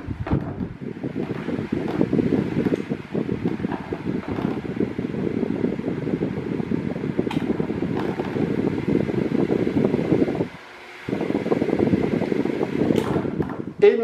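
A Ventisol 20 cm mini desk fan running, a steady close whooshing hum that cuts out briefly for about half a second near the end before resuming at the same level.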